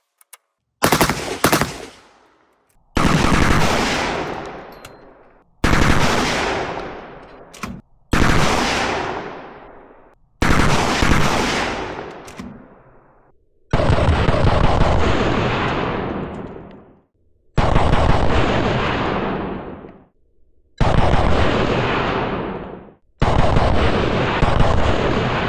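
Bursts of automatic fire from an M60-mounted 12 gauge shotgun fed by a 20-round drum magazine, heard as nine loud, close strings of rapid shots separated by short silent gaps as the feed stops and restarts.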